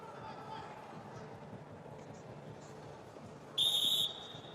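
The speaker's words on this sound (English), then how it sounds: "Bravo Young straight off the whistle, straight into that leg." A referee's whistle blows once, short and sharp, to start a freestyle 57 kg bout at the World Wrestling Championships, rising over a steady arena crowd murmur.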